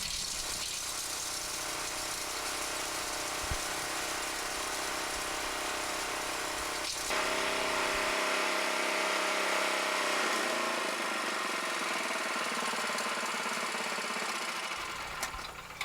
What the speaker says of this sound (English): We're just going to run all this stuff through and grind it down.